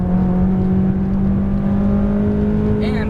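A McLaren 570S on a race track, its engine a loud, steady, close onboard drone that holds under acceleration throughout.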